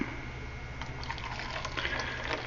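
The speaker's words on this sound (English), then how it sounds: "and gently pour it into the cup." Cowboy coffee being gently poured from a camp pot into a cup, a steady soft liquid trickle with faint splashy detail, alone and fairly close throughout.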